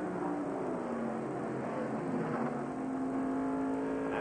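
NASCAR stock cars in the 1996 Brickyard 400 accelerating at a green-flag restart: a steady, dense engine roar with a slowly rising pitch, distant and constant throughout, no voices.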